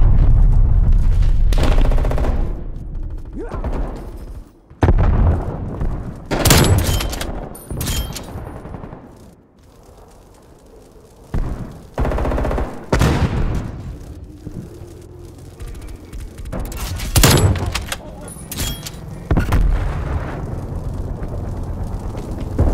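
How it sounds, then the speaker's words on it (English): An incoming artillery strike in the video game Call of Duty Black Ops Cold War, hardcore multiplayer: loud, close booming explosions and bursts of gunfire in irregular volleys, with brief lulls between blasts. "incoming artillery"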